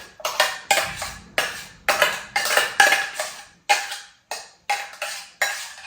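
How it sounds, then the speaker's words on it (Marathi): Mango pulp being stirred into fine semolina in a bowl for a homemade cake, heard as a regular series of loud scraping, clinking strokes of a spoon against the bowl, about two per second, close and with no talk. "हा मँगो पल्प पूर्ण मिक्स करून घ्यायचं आहे आपल्याला"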